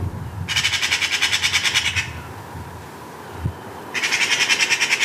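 Harsh, rapid magpie squawks in two bursts near their nest tree, each a fast rhythmic series of loud rasping calls, separated by a quieter gap.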